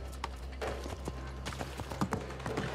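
Horse hooves clop in an irregular trotting rhythm over a low steady hum, fairly close, with no talking, in the video game Assassin's Creed Mirage.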